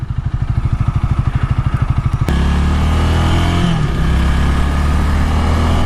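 A 2018 Honda Rebel 300 cruiser motorcycle accelerates close by, a pulsing low idle-like thump suddenly rising into a steady, loud engine drone as it picks up speed.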